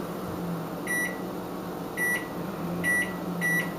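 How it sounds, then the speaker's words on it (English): Electronic timer beeps while risotto cooks in a home kitchen, sounding as four short clusters of bright tones spaced about a second apart over a steady low hum. "So I'm going to set my timer."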